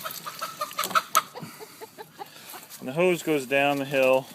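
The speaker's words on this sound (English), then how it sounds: "There's the chickens running around here." Chickens clucking on a property during a power outage, a run of short, moderately close calls and clucks in the first half, followed by a person talking.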